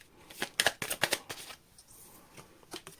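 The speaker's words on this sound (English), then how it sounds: "Last shuffle," Tarot cards being shuffled in a quick run of crisp riffling flicks, loudest early on, then a few softer card taps and slides as the shuffle winds down, with no voices.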